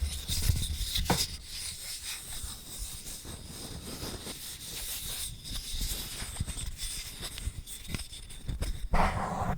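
A wooden coaster made of white oak and walnut is handled and rubbed close up, with soft scratchy brushing strokes and small taps in irregular bursts, quiet and intimate, with no talking.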